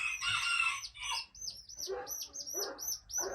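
Hens cluck in short bursts, mixed with rapid high-pitched peeping chirps of newly hatched chicks, close and fairly loud.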